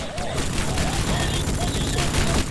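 A rifle deployed as an automatic turret in the video game Rogue Trooper Redux, rattling off dense bursts of gunfire under loud battle noise, with a voice talking briefly over the shooting.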